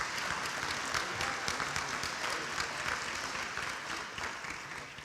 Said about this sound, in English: Let's give him another nice round of applause.